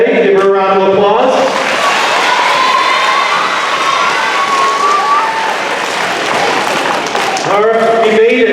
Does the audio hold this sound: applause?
yes